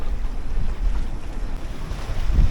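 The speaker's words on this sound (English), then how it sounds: "we're getting a fair bit of wind. We've got lots of white caps" Strong wind buffets a small 21 ft home-built sailboat on the open Atlantic, waves rushing and splashing against the hull amid heavy, gusty wind noise on the microphone.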